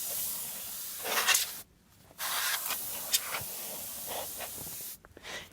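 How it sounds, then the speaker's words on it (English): Compressed air blasts dust out of an HP desktop computer tower in short, hissing bursts with brief pauses between them, close and fairly loud, with faint rustling and clicks in between. "grab some compressed air and just start compressed airing it"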